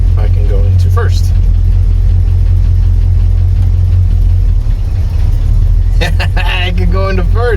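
A 1986 Ford F250 engine runs with a loud, steady low rumble close by while the driver shifts into gear, with someone talking briefly at the start and again near the end.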